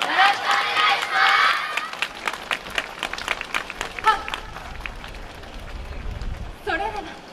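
An outdoor YOSAKOI Soran festival audience claps along to a dance team's performance, a crowd of fairly even, repeated hand claps under a loud voice and festival noise.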